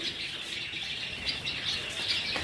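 Dense high-pitched chirping and twittering from many white Java sparrows at once in a breeding colony, steady and continuous, fairly close, with no talking.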